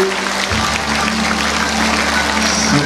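Audience applause at a Catholic church seminar, a dense steady wash of clapping filling the hall for a few seconds, with music or a low hum beneath.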